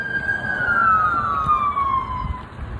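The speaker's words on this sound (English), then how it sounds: "I don't know if you can hear the sirens," A police siren wailing in a single long descending sweep as the vehicle passes at a moderate distance, over steady road and traffic rumble.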